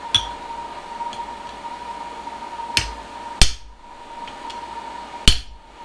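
A blacksmith's hammer strikes a chisel cutting through the middle of a hot iron bar while forging bolt jaw tongs: a few sharp, ringing metallic blows spaced irregularly over a steady background hum.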